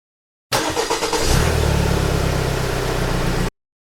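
A Kubota RTV-X1140 utility vehicle's 24.8 horsepower, liquid-cooled 3-cylinder diesel engine cranks and catches, then settles into a loud, steady, throbbing idle close by before cutting off abruptly.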